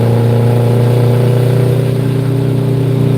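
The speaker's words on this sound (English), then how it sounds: "I love the sound of this truck, man." A diesel pickup truck that rolls coal drives under load, with a loud, close, steady engine drone and a deep rumbling throb and no talk over it.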